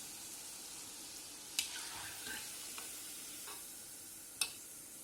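Jackfruit koftas frying in oil, a faint steady sizzle with a few sharp clicks of a utensil against the pan, quiet and close.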